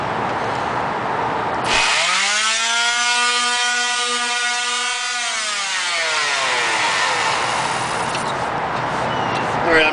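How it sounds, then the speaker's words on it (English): A power sander works on a wooden auditorium seat bottom, giving a loud, continuous whirring drone whose motor pitch sags under load and then climbs back as pressure eases, close and steady throughout. "I'm sure y'all don't want to watch me sand"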